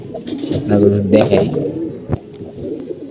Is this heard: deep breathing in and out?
no